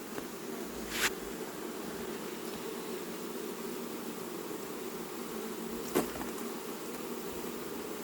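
A recently settled swarm of honey bees being collected at Vaux-le-Pénil gives off a steady, faint, even hum, broken by two brief sharp clicks.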